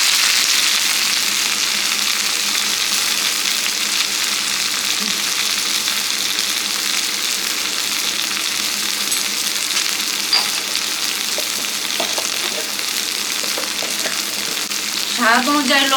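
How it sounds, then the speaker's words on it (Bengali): Potato and eggplant frying together in a pan, a steady dense sizzle of hot oil throughout with a few light clinks and scrapes near the end. "আলুটা তো ভাজা হয়ে গেছিলো, তারপর একটু বেগুনটা দিয়ে দিলাম।"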